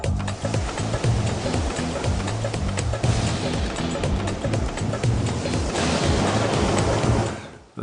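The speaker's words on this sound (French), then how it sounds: "là ça peut commencer à faire des grosses vagues tu vois, qui montent vraiment haut quoi" Big ocean waves used as a sound effect: a loud, continuous surging roar of surf fills nearly eight seconds over a low tonal hum, then drops away abruptly at the end.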